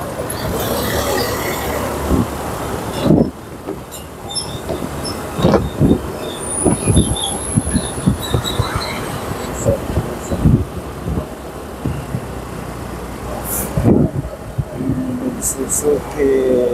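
A train rumbles through a railway station in Nusa Tenggara, with thumping wheel-over-joint knocks, a brief high squeal and interior clatter, heard fairly loud from on board while people talk nearby.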